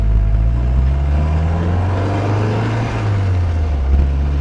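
A 1962 Triumph TR4 cruises along with a steady, loud engine drone and road rumble, the pitch holding near-constant with a slight shift midway, and no talk over it.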